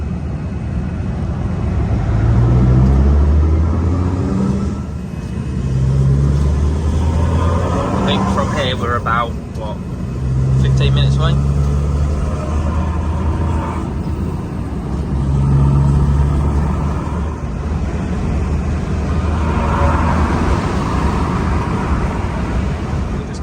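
Scania truck with a side pipe exhaust drives along, its low, steady engine drone running throughout under close conversation inside the cab.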